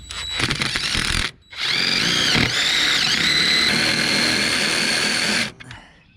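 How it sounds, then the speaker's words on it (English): A power drill with a step bit whines steadily through metal, widening a hole, starting with a few short bursts and then running for several seconds before stopping. "unibit, that's what I got on my drill. We're just going to widen that up"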